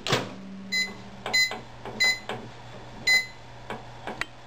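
Several short electronic beeps in uneven succession, fairly close, with a steady low hum underneath and no talking.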